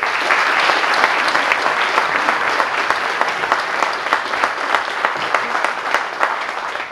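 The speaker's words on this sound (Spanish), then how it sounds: "para que pida un aplauso" Audience applause at a wine awards ceremony for ancestral wines, a dense, steady clapping from a large crowd that holds strong throughout, with sharper individual claps standing out near the end.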